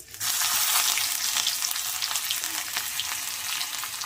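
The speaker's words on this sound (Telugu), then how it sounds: "నేనైతే పోపు సిమ్లోనే వేపిస్తాను ఇదిగో వెల్లుల్లిపాయలు ఎండుమిర్చి కరివేపాకు పోపులు అన్నీ రెడీ చేశాను ఇవన్నీ కూడా ఒకేసారి వేసేస్తాను" Garlic, dried red chillies and curry leaves fry in hot tempering oil over low heat, giving a steady, loud, close sizzle that bursts in right after a brief quiet start and carries on evenly with faint crackles.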